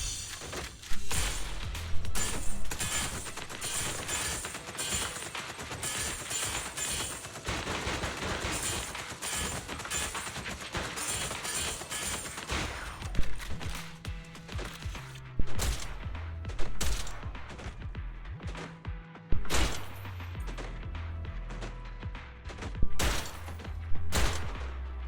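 Rapid bursts of gunfire and clattering impacts from the action game Zenless Zone Zero fire almost continuously, dense and loud, then thin into sharper separate shots and crashes toward the end.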